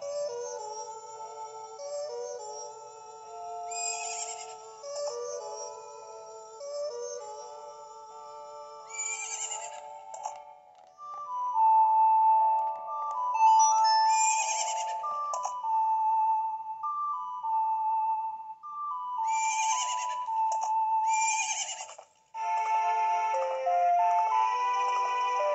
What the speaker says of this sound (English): I'll teach Romani's horse calling song to you, Grasshopper.